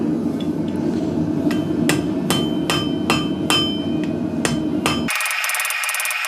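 The end of a steel strip cut from an empty can is drawn out on an anvil with a hammer: about nine sharp, ringing metallic blows land at a steady pace, then a bright, sustained metallic ring closes the clip.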